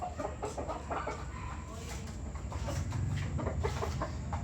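Young McLean gamefowl, a McLean x Miner blue cross about four months old and a McLean bullstag, cluck softly while feeding at night, with scattered close pecks and low murmurs over a steady farmyard background.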